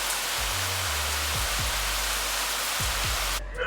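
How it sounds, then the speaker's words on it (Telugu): Heavy rain pours outside as a dense, steady hiss throughout, with a few low thumps underneath before it cuts off abruptly near the end. "ఇవాళ బయట వానేమో అద్దరు కొడుతుంది"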